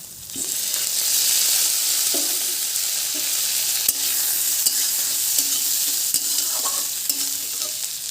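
Fried potatoes tossed into a pan of frying prawns, loud steady sizzling with repeated scraping stirs and occasional clinks of a utensil against the pan.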